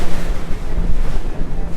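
Strong wind roaring and waves rushing past a 60ft foiling yacht doing 20 knots offshore in a Mediterranean race, loud, steady and close with buffeting gusts on the microphone.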